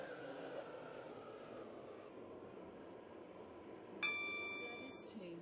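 A Roblox Stepford County Railway train pulls into a station in the game, a steady low rumble that runs throughout, with a sharp, bright tonal chime or brake squeal cutting in near the end.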